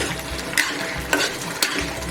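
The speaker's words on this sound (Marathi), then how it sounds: "व्यवस्थित आपण मिक्स करून घेऊया" Garam masala is stirred into a Malvani-style jackfruit vegetable in a pan, with a soft sizzle beneath three evenly spaced scraping strokes of the spoon.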